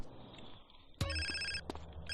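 A telephone rings in the video game GTA San Andreas, a sharp electronic trill that cuts in after a quieter stretch of game ambience and repeats in short bursts over steady background sound.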